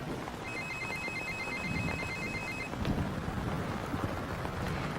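Telephone ringing in a comedy romance film, one long electronic ring tone sounding clearly over a windy, rumbling background, then stopping partway through.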